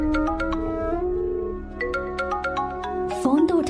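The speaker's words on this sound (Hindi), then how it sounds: "फोन तो उठा ले।" A phone ringtone plays a repeating electronic melody over a low background tone, ending in a brief burst of noise.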